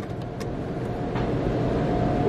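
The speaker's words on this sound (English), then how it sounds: "We going in the car wash" A car sits inside an automatic car wash as the machinery runs over it, giving a steady, loud, broadband rush and rumble that swells slightly and continues without pause, with no talking.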